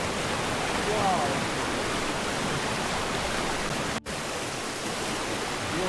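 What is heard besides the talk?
water flowing in a waterfall in a pine forest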